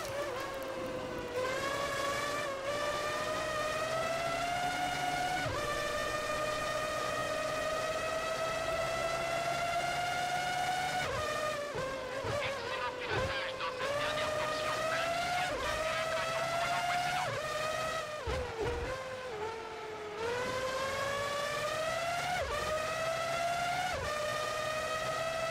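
A Formula One car in a PS2 racing game at the Barcelona circuit, its engine whining steadily at high pitch, rising and dropping through gear shifts and braking, loud and continuous with no talking.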